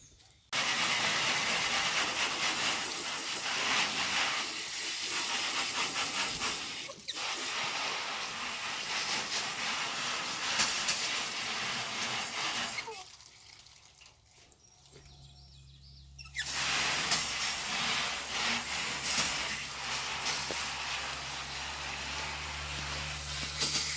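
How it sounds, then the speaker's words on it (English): A garden hose sprays water to rinse off a freshly butchered rabbit carcass, a steady loud hissing rush that drops briefly and then resumes, with no talking. "I'm going to go grab the hose, rinse this off first before I cut the actual meat part open."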